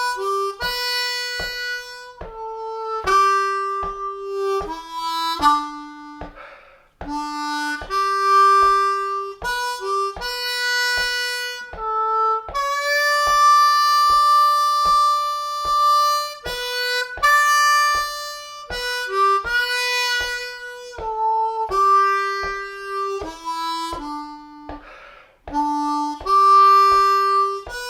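Harmonica played in 2nd position performs Amazing Grace in slow 3/4 time, sustained reedy notes and bending slides with rhythmic low thumps beneath, loud and close, with no talk.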